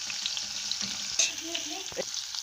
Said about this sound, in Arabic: وهي التومه كده بتتحمر